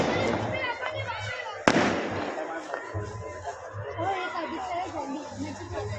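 Firecrackers crack and pop during a Makar Sankranti kite-flying celebration, with one sharp loud burst standing out amid a busy outdoor din of crowd voices and chatter.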